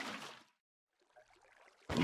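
Water poured in Minecraft (CrazyCraft modpack) as a soft, trickling flow rising after a short silence, bracketed by brief louder game sounds at the start and end.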